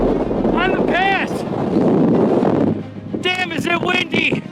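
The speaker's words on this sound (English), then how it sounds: "Damn, is it windy!" Strong wind buffets the microphone on a mountain pass along Nevada's Basin and Range Trail, a loud, steady low roar with gusty surges throughout, while someone talks over it in the opening and closing seconds.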